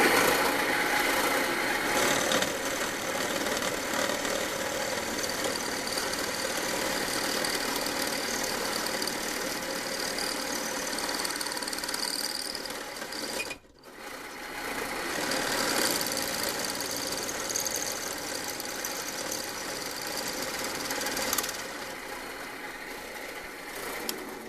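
A drill hogging out a previously drilled hole during a 2.2 to 3.4 engine swap runs with a continuous, fairly even grinding whir that cuts out briefly about halfway through before starting again, with no voices.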